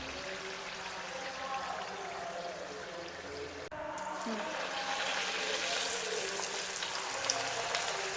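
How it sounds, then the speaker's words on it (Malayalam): Samosas frying in a pan of hot oil: a steady broadband sizzle that grows louder and brighter partway through, close and continuous, with no voice over it. "അപ്പോൾ ഇനി നമുക്ക് പെട്ടെന്ന് നമ്മുടെ സമൂസ ഫ്രൈ ചെയ്തെടുക്കാൻ പറ്റും കേട്ടോ"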